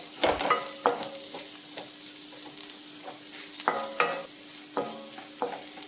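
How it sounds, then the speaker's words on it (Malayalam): A pan of onions sizzling softly as a fried mixture is stirred in for chicken curry, with scattered scraping clatters of a spoon against the pan over a faint, steady fry; no talking. "അത് നമുക്ക് സബോളയിലേക്ക് നീക്കിയിട്ടിട്ട് സബോളയിലേക്ക് എല്ലാം ഒന്ന് മിക്സ് ചെയ്യും"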